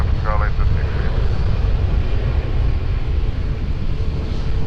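A jet roars steadily on Lisbon Airport runway 20 during takeoff, a loud broad engine rumble filling the whole stretch, with radio chatter from the tower over it.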